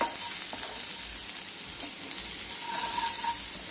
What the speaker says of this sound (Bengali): একটু জাস্ট ভাজা ভাজা ফ্রাই হবে, তার মধ্যে একটু নুন দিয়ে দেবো, তবে একটু সফট হয়ে যাবে পেঁয়াজটা।